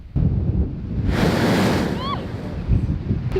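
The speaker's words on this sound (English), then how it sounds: "The water and air then blasts up through these tunnels and out through the top of the rock, creating these amazing blowholes" Blowholes on the rock coast at Albany, Western Australia, blasting water and air up through rock tunnels, a loud roaring whoosh over steady surf and wind buffeting, with brief voices in the background.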